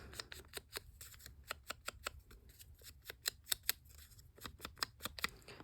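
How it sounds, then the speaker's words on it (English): Scissors snipping paper off a craft sheet, a rapid run of crisp, close cuts in an even rhythm that speeds up and clusters in the middle, with no talk. "I will just cut it off."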